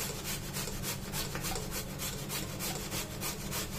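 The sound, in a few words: grating vegetable with a grater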